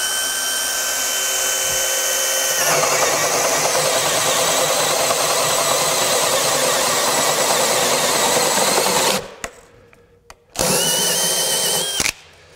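A DeWalt 20V cordless saw on a 6Ah battery cuts dimensional lumber in one loud, steady, high-pitched whine lasting about nine seconds. The blade winds down, then there is a short burst and a brief pause. No one speaks.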